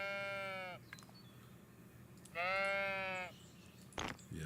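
A sheep lets out two clear bleats a couple of seconds apart, close and moderately loud over a quiet background, followed by a brief knock.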